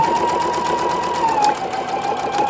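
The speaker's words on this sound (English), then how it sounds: "I'm going to go ahead and I'm going to sew a 1/4" away from that line" A sewing machine set to a 2.0 stitch length runs steadily, stitching a quarter-inch seam on a Shoo Fly variation quilt block, with a continuous motor whir and rapid needle chatter close by, no voices.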